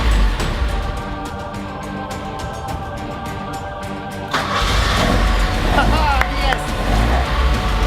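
An Alfa Romeo Series 3 engine cranks and fires after a new starter motor install, with steady running noise beforehand, then a louder surge as the engine catches and keeps running, close by, with voices murmuring in the background.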